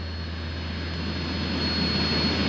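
A small airplane's piston engine drones steadily from inside the cabin during a carburetor icing episode, a loud constant roar with a low hum and no voices.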